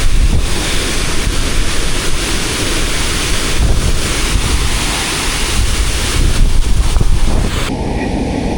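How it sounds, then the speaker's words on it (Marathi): A large, fierce waterfall in the monsoon-soaked Konkan region between Ratnagiri and Sangameshwar gives off a loud, unbroken roar that fills the whole stretch, with wind-like rushing and no voices. "पण खूप मोठा आणि रौद्र असा हा धबधबा आहे."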